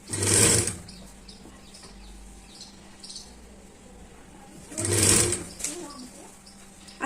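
A sewing machine stitches a katori blouse with a low, steady whirring hum, interrupted twice by louder, brief bursts of sound near the start and again about two-thirds through.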